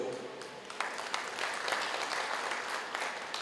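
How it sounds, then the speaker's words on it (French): A brief burst of clapping from a crowd, steady and moderately loud, with no talking over it. "Alors pour ça, un applaudissement pour Anna aussi."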